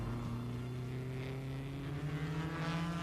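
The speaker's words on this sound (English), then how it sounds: "And then Harry Schell, the Franco-American, chasing the leaders on laps 1500cc Cooper Formula 2, right in his wheel tracks." 1957 Formula 1 racing cars at the German Grand Prix, including a 1500cc Cooper Formula 2, a Maserati 250F and a Porsche, drone by with a steady, fairly distant engine roar that rises and falls slightly.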